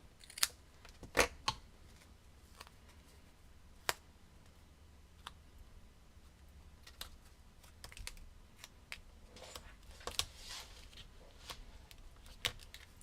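Scissors snip through paper while trimming a card, a few sharp close cuts scattered among quiet handling and faint rustling at a crafting table.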